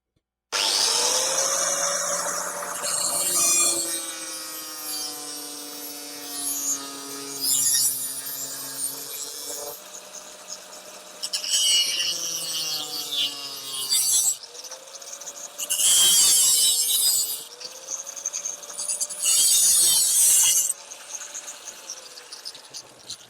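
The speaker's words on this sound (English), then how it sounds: "Use the cutting disc and just cut the template out" An angle grinder's cutting disc slices through steel sheet while a sill panel template for a Clio 16v is cut out, screeching in repeated bursts with falling pitch as the disc bites and spins down between passes.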